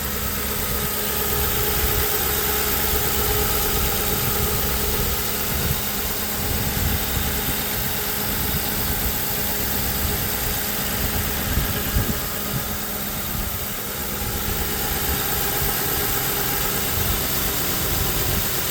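Idling V8 of a stock 2005 Ford Crown Victoria Police Interceptor, a steady, loud, close rumble that holds without revving for the whole stretch, with no talking.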